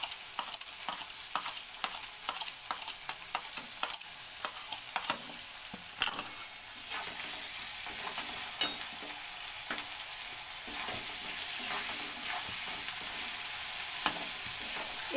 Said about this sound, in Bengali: আমার পেঁয়াজ, রসুন আর টমেটো ভাজা হয়ে গেছে